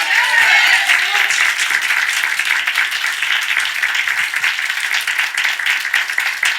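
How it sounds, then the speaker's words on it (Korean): A congregation at a Sunday morning worship service breaks into applause, a dense continuous wash of many hands clapping together, loud and sustained without pause. "먼저 우리 하나님께 박수로 영광 돌리겠습니다."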